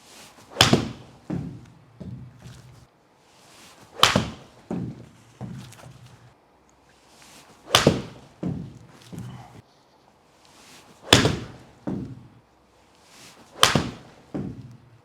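Golf shots struck with Callaway Chrome Soft balls come as sharp, close impacts about every three to four seconds, each followed by several softer thuds and knocks, with quiet gaps between.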